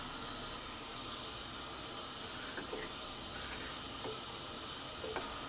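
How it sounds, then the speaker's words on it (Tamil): Water and yogurt simmer in a cooking pot, giving a faint, steady bubbling hiss with a few small pops scattered through, and no talk. "இது நல்லா கொஞ்ச நேரம் கொதிக்கட்டும்."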